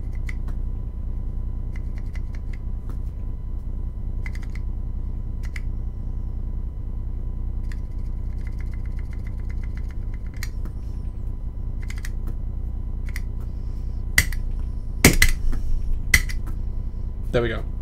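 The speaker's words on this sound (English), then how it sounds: "let's listen to the typing sounds" A small mechanical keyboard macropad clacks as keys are struck in sparse, irregular taps and short bursts over a steady low hum, growing into a quick flurry near the end; no talking.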